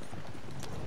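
Horses' hooves clip-clopping on ground in the video game Red Dead Redemption 2, a quick, dense run of close hoofbeats over a brief moment.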